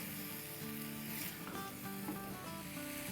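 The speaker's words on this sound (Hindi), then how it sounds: "2 मिनट तक अच्छे से भून लेंगे।" Chicken with onion and black pepper powder frying in oil in a pan, giving a steady, soft, continuous sizzle close by with faint stirring scrapes.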